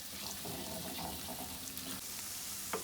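Shrimp with spices and green seasoning fry dry in a pan, giving a quiet, steady sizzle with faint stirring scrapes throughout.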